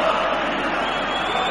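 Huge stadium crowd at the Marakana in Belgrade during the 1991 Crvena Zvezda versus Bayern match, a dense, steady roar filling the air without letup.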